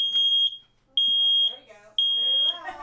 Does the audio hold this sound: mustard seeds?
no